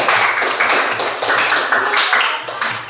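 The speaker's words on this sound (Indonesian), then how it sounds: "Kasih tepuk tangan" A group claps together in a room, a steady, continuous patter of many hands that carries through the whole stretch at a fairly loud level.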